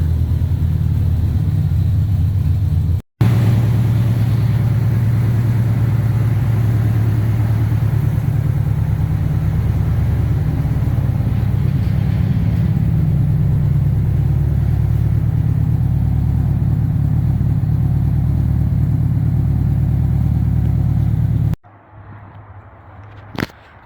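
Subaru STI engine idling in a cold garage, a steady, loud, close low rumble that runs for about twenty seconds with a brief cut near the start, then drops away to quiet near the end.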